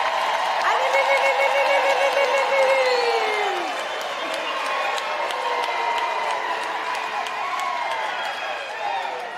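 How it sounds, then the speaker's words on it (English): A large audience at a university autumn graduation ceremony applauds and cheers loudly, with long whoops and shouts over steady clapping that carries on throughout. "May I hear the real applause?"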